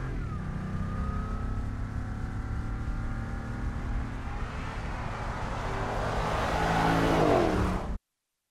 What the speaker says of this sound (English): Careful acoustic tuning of the Defender V8 induction and exhaust systems provides a purposeful and authentic sound